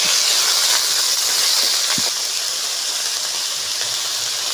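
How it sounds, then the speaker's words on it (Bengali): Dry red chillies, bay leaf, cumin and onion paste hit hot oil left from frying fish, giving a steady, loud, close sizzling hiss that runs throughout with a few small pops. "মাছ ভাজা তেলের মধ্যে দিয়ে দেবো দুটো শুকনো লঙ্কা, তেজপাতা, জিরে, বেটে রাখা পেঁয়াজ"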